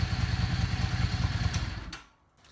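A Yamaha Star 650 motorcycle engine runs after a carburetor rebuild, a loud close rhythmic idle chugging steadily before cutting off abruptly near the end.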